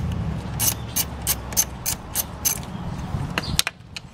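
An 8mm socket wrench turning the ignition coil bolt on a 2007 BMW 328xi E90 gives a series of rapid ratcheting clicks in regular bursts, close up, with no talking.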